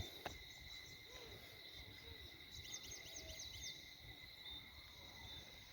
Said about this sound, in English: You can hear the sounds of the birds and the sheep and the cattle in the nearby